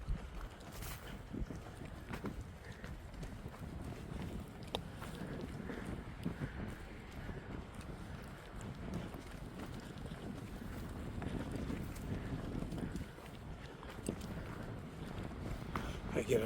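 Wind gusting around the highest shelter on the Appalachian Trail in North Carolina, a continuous low rumbling buffet with surges and microphone wind noise, close and fairly loud, with a voice heard at moments.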